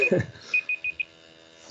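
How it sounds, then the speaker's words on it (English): A presentation timer goes off with a short run of four electronic beeps at a steady rhythm, fairly quiet, coming right after a brief bit of speech and followed by a soft thump. "that's the timer up for me"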